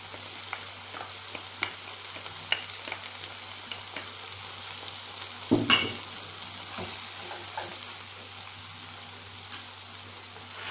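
Chopped olives and parsley stirred into a filling in a pan, giving a soft, steady sizzle with scattered light scraping clicks and one sharper clatter midway, no voices.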